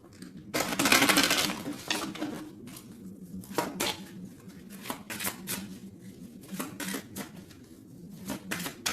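Tarot cards are shuffled and drawn, opening with a dense riffling burst, then a series of soft flicks and snaps as single cards slide out, close and quiet.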